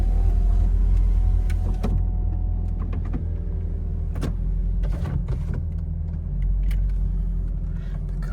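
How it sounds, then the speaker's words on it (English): The folding metal roof of a Mercedes-Benz SL55 AMG moves under a steady electric motor whine and low rumble, with mechanical clicks and latching knocks punctuating it, close and without talk. "A fully folding metal roof."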